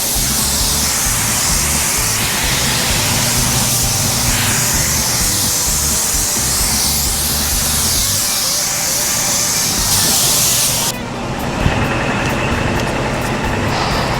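A spray gun lays a full coat of paint on a Mach 1 car, a loud, continuous airy hiss that runs almost without a break and shifts slightly in tone near the end.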